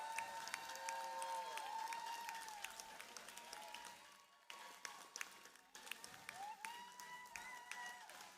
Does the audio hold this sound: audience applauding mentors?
yes